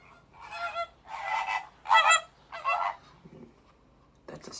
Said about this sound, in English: I hear a flamingo fluting